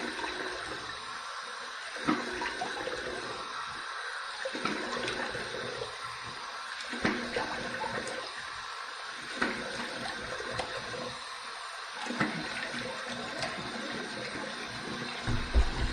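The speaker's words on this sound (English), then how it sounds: "Here's my warm water rinse." Warm tap water running steadily into a sink for rinsing after a wet shave, a soft continuous splash with faint bumps and small pauses in the flow, close by and without speech.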